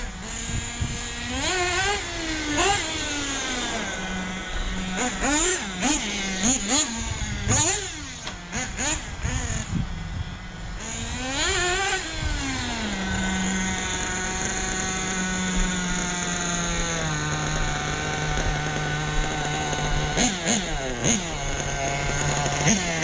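A Hobao Hyper VS2 RC car's small nitro engine runs during break-in, buzzing loud and close with repeated revving blips early on, then settling into a high, steady idle.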